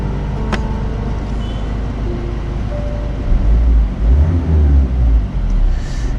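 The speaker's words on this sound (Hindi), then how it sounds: "Now I am going to start the engine" A Ford Freestyle car sits near the listener with a low steady engine rumble throughout, swelling into louder throbbing surges partway through.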